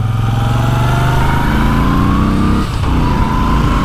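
Moto Guzzi V7 III motorcycle accelerating hard, its engine note rising steadily in pitch through the gears, loud and close with a brief dip near the end before pulling on.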